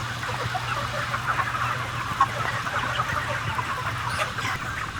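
Chickens clucking in a crowded factory farm shed holding tens of thousands of birds, a dense continuous murmur of many distant clucks over a low steady ventilation hum, no voices.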